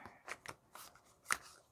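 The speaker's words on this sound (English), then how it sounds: "One more shuffle here, and we'll select a second clarification card for that one." Tarot cards shuffled by hand during a reading, giving a few soft, papery riffling bursts in quick succession, close and fairly quiet with no talking.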